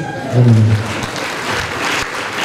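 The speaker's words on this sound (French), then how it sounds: "Applaudissez." Short burst of audience applause during a lighthearted talk about celebrating Mass, a full wash of clapping that follows a brief voiced tone at the start and fades slightly toward the end.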